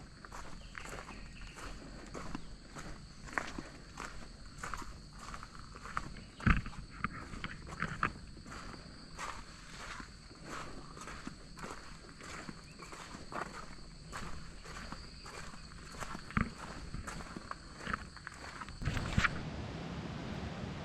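Steady footsteps crunch along a trail at a walking pace for a long stretch, with insects buzzing faintly in the background and no talking.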